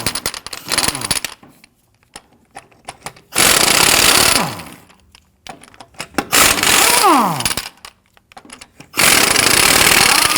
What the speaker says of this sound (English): I'm going to use a 19mm socket to go ahead and loosen and remove the lug nuts.